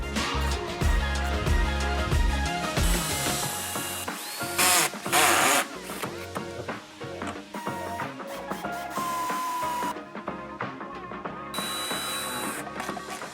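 A power drill whirs in repeated bursts as holes are bored in a Subaru WRX STI aero kit, close by, with pauses and shifting pitch between runs.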